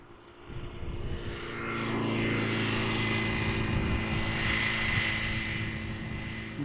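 An arriving airliner on approach to Amsterdam Schiphol Airport, a jet roar building from faint to loud as it passes overhead, with a sustained whine and rumble.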